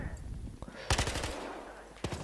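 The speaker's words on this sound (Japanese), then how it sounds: "あ、撃っちゃった、撃っちゃった、撃っちゃった。" Gunfire in the online shooter Battlefield Hardline: a quick burst of automatic shots near the middle and a shorter burst near the end, over quiet game ambience and some talk.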